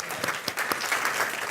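A church congregation applauds in a brief burst of dense, steady clapping, fairly soft and slightly distant, with no voices standing out over the hands.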